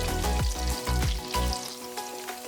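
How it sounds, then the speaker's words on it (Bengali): Cut raw green banana pieces fry in oil in a wok for shukto, giving a steady crackling sizzle beneath tonal background music, with a few stronger bursts and no talking. "কাঁচকলাগুলো খুব বেশি ভাজবেন না, মোটামুটি 30 থেকে 40 সেকেন্ড ভাজলেই হবে।"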